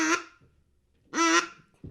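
Two sharp quacks blown on a duck call, cut off crisply with the tongue, come with a long pause between them. Both are close and loud, and a third note starts just as the clip ends.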